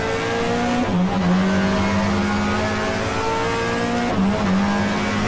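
A 1994 GTR2 race car at Mallala circuit accelerating hard, its engine droning loud and steady, then briefly dipping twice as it shifts up into fourth gear, with tire noise underneath.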